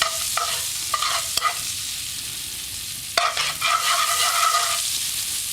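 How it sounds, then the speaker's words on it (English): Breadcrumbs fry in melted butter in a pan, giving a soft hiss with a few sharp scrapes and stirring clicks from a utensil, near and clear, with no voices. "Now we're just going to fry our crumbs in this."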